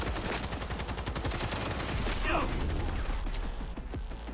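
Rapid machine gun fire in Cyberpunk 2077, a steady run of close, loud shots with mechanical clatter mixed in and a brief rising whine near the middle.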